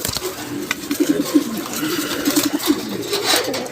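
Giribaz pigeons coo at a pigeon farm in Bangladesh, close and fairly loud, in two rhythmic runs of throaty coos with faint background voices.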